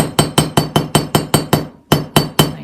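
A metal hammer strikes wire in rapid, evenly spaced blows, hardening a beaded kinetic link. There are eight ringing hits, a brief pause, then three more, all close and loud with no talking.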